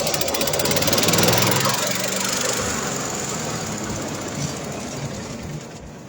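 A 1.5-metre-wide, three-blade tow-behind mower runs with a dense, rapid, mechanical clatter and a steady engine drone. The machine sounds close and loud, holding a fairly even level with no clear speech.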